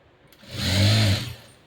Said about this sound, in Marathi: शिलाई देऊन घेतली त्यानंतर परत इथे ही दुसरी शिलाई देते